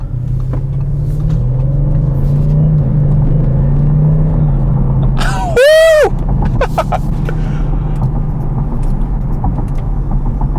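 A 2021 Audi RS6 Avant driving in dynamic mode, its engine a deep, loud, steady rumble from inside the cabin, rising briefly midway with a burst of sweeping tones, and a voice speaking over it.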